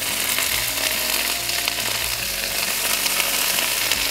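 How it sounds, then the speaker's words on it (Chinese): Whole garlic cloves fry in a little oil in a pan, giving a steady, close, loud sizzle with a low rumbling hum underneath and no talking. "锅里再放一点点油，不用太多，就能够炒香几个蒜头就可以了"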